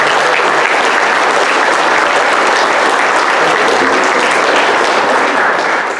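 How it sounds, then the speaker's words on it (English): Sustained applause from an audience at a boys' soccer banquet, dense and steady clapping that fills the room at full volume for the whole stretch, tapering only slightly at the very end. "A round of applause for Jack Rose."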